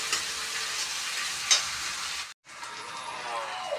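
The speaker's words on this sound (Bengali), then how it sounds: "একটু আদা রসুনের পেস্ট দেবো আমি, গন্ধ যাওয়া অবধি ভেজে নেব।" Ginger garlic paste frying in hot oil in a pan, a steady loud sizzle with occasional stirring scrapes, briefly cut off by a short gap before the sizzle resumes.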